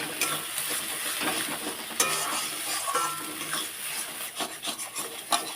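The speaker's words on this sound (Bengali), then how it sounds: "আলুটা একটু ভালো করে ভেজে নিন" Potatoes frying in a pan for a pointed gourd mash, a steady close sizzle with scraping and rubbing as the pieces are stirred, punctuated by a few sharper clicks and knocks, no voices.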